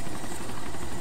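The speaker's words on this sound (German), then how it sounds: "Oh, da vorne ist Heli." A helicopter flies in the video game DayZ Epoch, its rotor making a loud, dense, continuous chopping roar throughout the brief moment.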